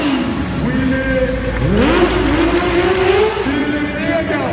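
A motorcycle engine revving at an indoor motorcycle show, loud rising and falling throttle blips that swell and drop in pitch, close by over crowd noise and a speaking voice.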